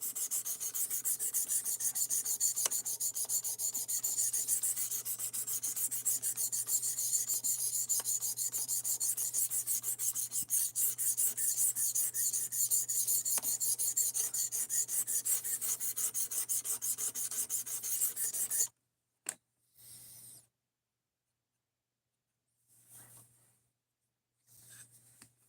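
Steady, continuous rasping of a D2 steel knife blade being sharpened, an even scraping grind that runs for most of the time before stopping abruptly, followed by a few brief scrapes.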